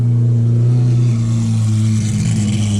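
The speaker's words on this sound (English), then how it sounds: "Lamborghini Huracan. Here we go. You gotta hear this car." Lamborghini Huracan engine at a Lamborghini-only car show at a market in Tuscany, revving loud and close as the car passes, a deep sustained roar that holds steady and then shifts as it moves by, with no talk over it.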